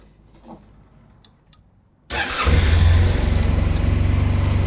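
A 2002 Honda Silver Wing 600 scooter, parked on its centre stand, catches after a brief quiet and settles into a steady, loud idle that runs close to the end, with no talk over it.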